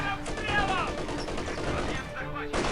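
StG 42 automatic rifles rattle in a Company of Heroes 2 infantry battle, dense overlapping bursts of gunfire in a busy battle mix with a voice faintly underneath.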